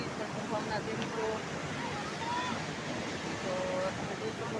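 Floodwater of the swollen Malan river rushes past in a steady, dense roar under rain, with faint thin whistles drifting over the broad churning wash.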